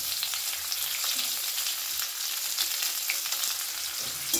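Chopped onions frying in fish-frying oil with black cumin, a soft continuous sizzle with light crackles and occasional stirring taps, heard up close and without talk.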